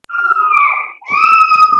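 A baby screams loudly and close in two long, strained wails separated by a brief gasp, heard on its own over an online class call.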